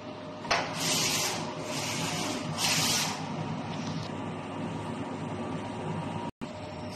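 A DTF printer runs a nozzle test, its print head carriage sweeping back and forth in a few rhythmic whooshing passes over a steady mechanical hum, then settling into a quieter run.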